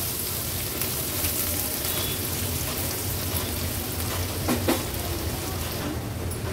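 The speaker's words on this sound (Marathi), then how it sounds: "कांदा आलं लसूण क्रश आपण असं परतून घ्यायचंय" Chopped onion with crushed ginger and garlic sautéing in a pan for a home-style paneer mutter dish, giving a steady, even sizzle and crackle throughout with no talk.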